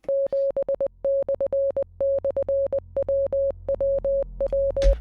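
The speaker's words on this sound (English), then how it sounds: "I know it's Morse code, though." Morse code beeps from an ARG audio file: a single steady pitched tone keyed in rapid short and long pulses, grouped in clusters with brief gaps, clean and alone.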